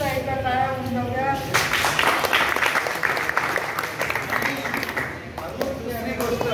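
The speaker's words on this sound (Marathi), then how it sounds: "म्हणून नानांसाठी सुद्धा एका टाळ्या होऊन जाऊया." An audience claps for Nanasaheb at a Marathi gathering, a dense wash of applause swelling in after a brief opening voice and carrying steadily on, with a few voices audible under it.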